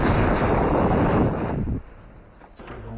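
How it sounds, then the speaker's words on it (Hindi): A rocket strike on a Merkava tank sets off a big, roaring blast that fills the air for over a second before dropping to a low, rumbling fade. "उसके ऊपर रॉकेट से फायर कर देता है, जिससे बहुत बड़ा ब्लास्ट होता है।"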